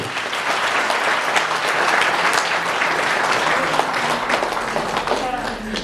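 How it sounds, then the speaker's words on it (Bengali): A church congregation at a Bengali sermon claps loudly and continuously, a dense, sustained wall of applause that holds steady throughout. "প্রভু জন্য জোরে করতালি দে"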